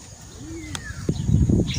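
Racing pigeons coo softly at a loft trapdoor, a few low murmuring coos rising toward the end, with a faint chirp and some shuffling nearby.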